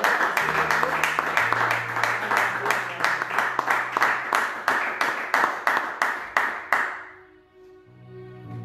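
A church congregation claps together in a steady rhythm to acclaim God, about a dozen loud even claps over a low held note, then the clapping stops and soft tones remain.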